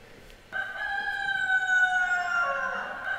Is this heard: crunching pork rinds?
no